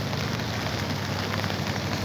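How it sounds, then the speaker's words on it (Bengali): Heavy rain pours steadily onto a vegetable garden planted with papaya, chilli and other vegetable plants, a dense, even hiss of drops close by with no voices. "আজ হঠাৎ করে বৃষ্টি বৃষ্টি খুব জোরে"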